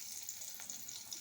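Whole spices for tempering sizzle and crackle in hot oil in a pan just after fried fish, a steady close bright hiss with faint pops and no talking.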